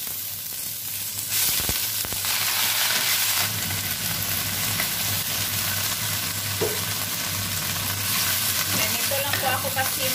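Cabbage fries in a little oil in a home kitchen, with a loud steady sizzle throughout and a few stirring knocks and scrapes near the start, and no speech.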